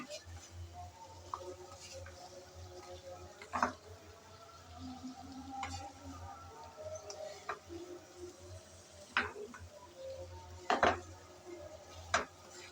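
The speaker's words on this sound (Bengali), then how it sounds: "লতিগুলো দিয়ে চিংড়ির সাথে ভালোভাবে কষিয়ে নেব।" Taro stolons stirred with prawns in a pan, giving scattered scraping clinks of a spatula against metal over a low steady background hum, with occasional sharper knocks.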